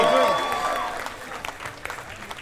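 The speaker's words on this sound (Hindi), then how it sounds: "जोरदार तालियां फॉर द एंटायर परिवार of the great Indian couple show." Studio audience applause on the set of The Great Indian Kapil Show, a dense wash of clapping that swells at the start and tapers off over about two seconds, with musical tones and voices mixed underneath.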